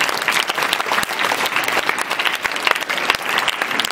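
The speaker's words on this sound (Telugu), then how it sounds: "వాళ్ళందరికీ ఒకసారి క్లాప్స్ కొట్టినానా" Steady, dense applause from an audience honoring tenth-grade students at a cash award ceremony in Ramachandrapuram, sustained and loud throughout with no talking.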